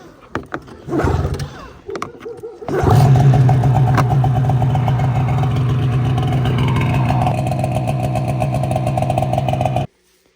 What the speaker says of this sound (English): I'm gonna run outside and start that sled